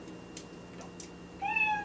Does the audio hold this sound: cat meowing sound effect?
yes